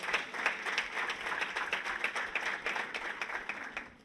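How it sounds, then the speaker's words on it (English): A tech event audience breaks into a round of applause for the sponsor, steady fairly close clapping from many hands at a moderate level, with little talk over it. "let's give Google a round of applause for making this event happen"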